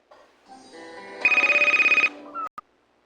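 A phone ringtone plays, a short melodic jingle followed by a run of rapid, evenly pulsed electronic rings, close and clear, then cuts off.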